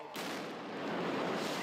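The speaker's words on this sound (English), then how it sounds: "Une explosion sourde." A dull explosion goes off at the Boston Marathon. It comes as a sudden, loud, broad rumbling blast that holds for over a second with no talk.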